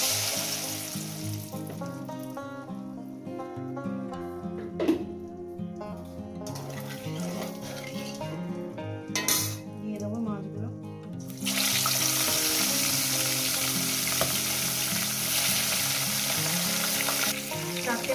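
Fish fries in hot oil in a pan, a sizzle sitting under tuneful background music at first, then swelling into a loud, steady hiss once the music drops away.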